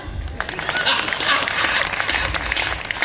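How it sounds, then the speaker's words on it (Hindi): An audience claps at a Hindi poetry recital, a dense burst of applause that swells and then holds, with a voice speaking faintly beneath it. "आप सबको काम मिला ताली बजाने का, बजाओ।"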